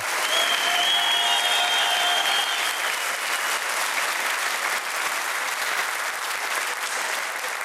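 A studio audience breaks into sustained, dense applause at a Albanian television show, loud and steady throughout with a faint whistle early on, no speech over it.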